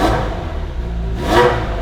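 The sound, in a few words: Ferrari 355 3.5 litre V8 revving, exhaust valves closed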